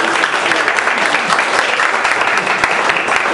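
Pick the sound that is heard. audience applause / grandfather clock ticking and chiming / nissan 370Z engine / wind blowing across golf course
audience applause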